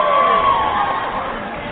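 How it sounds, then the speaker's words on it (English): A short burst of cheering and crowd applause plays as a sound effect in a podcast interview, a bright, busy wash that fades slightly over under two seconds. "I'm gonna do a round of applause for that"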